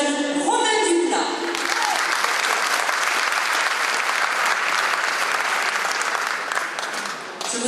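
A large audience bursts into sustained, dense clapping at a bullfighting cuadrilla presentation in Pomarez, loud and steady throughout, briefly overlapping an announcer's voice at the start.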